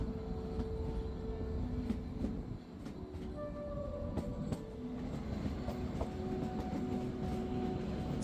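Train carriages on the mountain railway climbing toward Shimla in India give a steady, faint rumble. Light rhythmic clicks and occasional thin wheel squeals ride over the rolling noise for the whole stretch.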